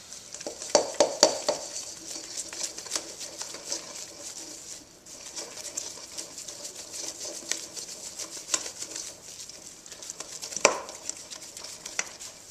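Bread dough is mixed and kneaded by hand in a bowl, producing soft wet squelches, slaps and faint tapping in an irregular rhythm close by, with no voices.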